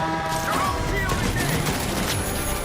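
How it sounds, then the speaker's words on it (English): Gunfire and blasts from a video game RPG barrage fill the clip, a dense, loud run of rapid shots with crashing impacts and booms, steady throughout with no pause. "RPG fire!"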